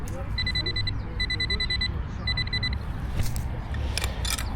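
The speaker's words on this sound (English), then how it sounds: "I'm hearing a beep under those roots." Repeated electronic beeps from a metal detector probing under tree roots, coming in clipped bursts over steady outdoor background noise with a few louder rustles toward the end.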